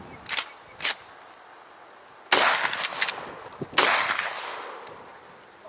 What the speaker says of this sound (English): Let's get shooting.